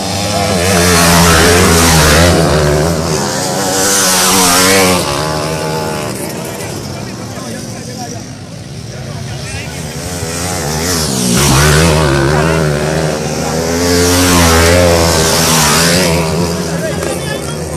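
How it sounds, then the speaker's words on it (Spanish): Motorcycle engines rev and rise in pitch through the first turn of a race track, swelling loud, easing in the middle, then surging again, with commentary voices talking over them. "Llegan a la curva número uno, parece que la reta el motor de Luis David"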